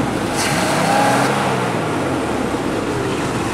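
A steady, rumbling hot rod engine in a rat rod car idles loudly and continuously nearby, with a rough low-end throb and no voices; its distributor dwell needs setting.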